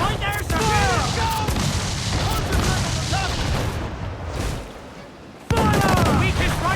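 Ship cannons in Assassin's Creed Black Flag boom in rapid heavy volleys during a naval battle, loud and dense, with shouted voices over the firing and a short lull before another blast.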